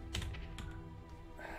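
Computer keyboard keys clatter during a Guilty Gear Strive fighting-game session, with a few sharp, close clicks in quick succession over a low steady background hum.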